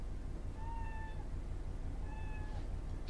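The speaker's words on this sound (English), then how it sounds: "Yeah, she just meows at everything." A pet cat meows twice, clear and fairly close, the calls spaced about a second apart over a steady low background rumble.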